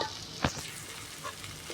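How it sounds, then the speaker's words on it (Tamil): Raw mango and spices sauté in a pan for mango rice, a soft steady sizzle with a few faint stirring scrapes. "மாங்காய் வேக வரைக்கும் வதக்கலாம்"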